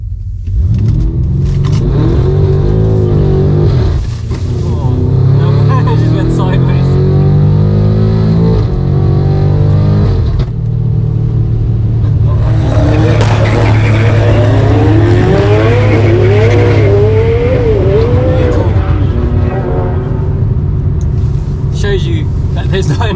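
A tuned Stage 2 BMW F90 M5 with meth injection holds revs on launch control and then accelerates hard, a loud continuous engine roar climbing through gears with rumble, while a person talks over it.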